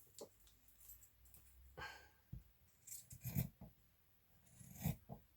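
Big scissors cut through fabric scraps in short, separate rasping snips and rubs, close by and fairly quiet, with brief pauses between cuts.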